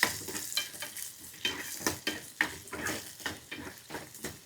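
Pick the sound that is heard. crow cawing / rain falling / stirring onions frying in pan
stirring onions frying in pan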